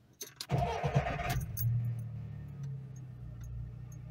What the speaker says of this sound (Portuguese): Então vou ligar o veículo agora.